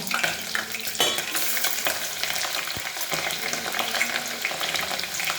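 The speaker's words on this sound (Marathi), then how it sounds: "लसूण थोडं लालसर झालं ना मग कांदे टाकायचे. आता टाकायचे कांदे." Chopped onions go into a pan of garlic frying in hot oil for a Marathi bhaji, giving a loud, steady sizzle with crackling bursts and occasional stirring scrapes throughout.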